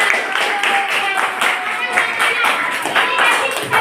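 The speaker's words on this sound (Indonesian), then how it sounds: "Tepuk tangan untuk kita semua." A classroom of people claps hands in quick rhythmic bursts, with voices mixed in among the claps.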